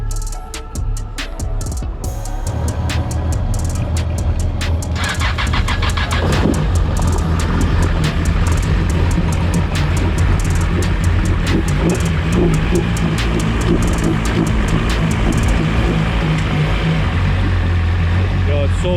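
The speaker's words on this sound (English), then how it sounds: "Yo, it's so quiet with the exhaust in the water." A modified Mad Max jet ski engine runs with its exhaust submerged in water, giving a continuous muffled burbling drone with a steady low rumble, close and loud, while a person talks over it.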